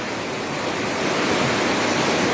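Floodwater from a swollen river channel spilling over during flooding and debris flows in Koto Tinggi, Maninjau, a loud continuous broadband roar of rushing water with no pauses, close and dense.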